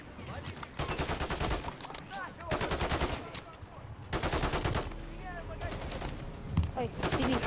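Sustained bursts of automatic gunfire from a Call of Duty MW3 campaign mission, loud rapid volleys in several waves with brief lulls between, mixed with game effects and a dense battle din.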